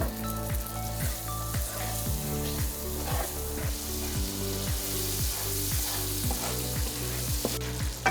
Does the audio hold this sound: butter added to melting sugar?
yes